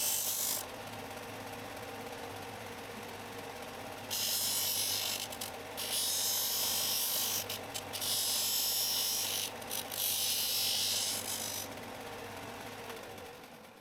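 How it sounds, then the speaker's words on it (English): A power sander whines in three long bursts, loud and close, each lasting a couple of seconds, as it rounds the upper corners of short plywood pieces, with a quieter motor hum between runs. "Now I'm sanding the upper corners so that the corners are rounded."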